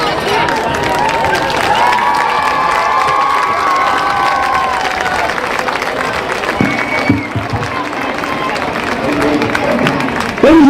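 A stadium crowd at a high school football game cheers and shouts loudly after a band halftime show, a sustained roar with children's voices and whistles mixed in and an announcer's voice briefly heard over it.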